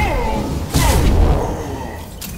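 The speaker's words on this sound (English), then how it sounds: "Explosions are fun." A deep booming explosion from the video game Mass Effect 2, a loud blast with crackling debris tail lasting about a second before fading, heard over game ambience.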